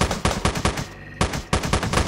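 Rapid bursts of gunfire in the video game Teleglitch, two quick volleys of close, loud shots separated by a brief pause.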